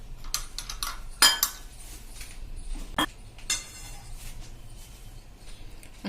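A spoon scrapes and clinks against a bowl while lemon juice, oil and spice stuffing for stuffed brinjal fritters are mixed, with irregular sharp clinks and soft scraping strokes close up.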